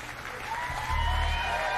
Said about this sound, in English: to enjoy your thunderous applause